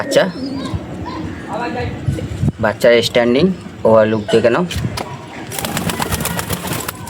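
A young pigeon, one of a pair of Madras and Fulshira breeds with a clipped tail, coos softly in short bursts up close while people talk nearby.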